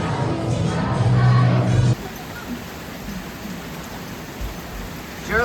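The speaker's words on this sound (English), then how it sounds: "I'm going crazy with the rain." Steady rain falls as a broad, even hiss after about two seconds, following a brief loud low rumble at the start, with no voices over it.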